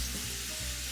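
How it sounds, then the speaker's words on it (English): Shrimp sizzle in a hot pan for shrimp pasta, with a steady close frying hiss and a few soft bumps as they are turned, and no talking. "I got the okay to go ahead and flip these shrimp"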